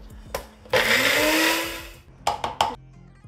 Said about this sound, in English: And blend them up to make a coarse paste.